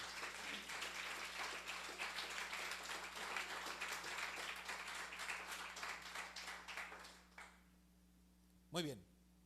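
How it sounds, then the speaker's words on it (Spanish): A church congregation claps in loud, sustained applause as an offering of praise, dense hand claps filling the room before fading out, followed by a brief rising tone at the end. "Denle una ofrenda de palmas al Señor."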